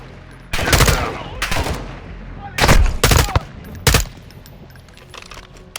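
Gunfire from the Call of Duty Modern Warfare 2 campaign: about five loud, sharp shots or short bursts spaced irregularly over several seconds against a low background of game ambience.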